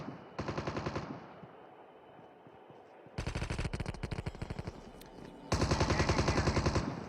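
Gunfire in the battle royale Call of Duty Mobile arrives as three bursts of rapid automatic fire, loud and close, separated by quieter gaps with distant shots, and no voices.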